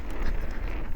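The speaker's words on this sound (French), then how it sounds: "Bah, le vent me ralentit." Steady, blustery wind roars against the microphone while mountain biking at a bike park, a dense rumbling buffet with no voices.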